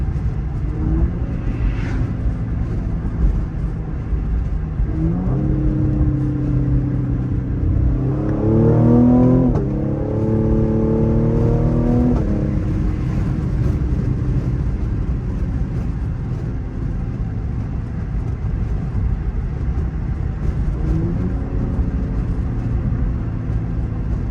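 A Cadillac CT5-V pulls hard at night near a gas station, its engine note rising through several gear-like sweeps from a steady idle rumble, loud and close, with a brief louder surge midway before settling back to a drone.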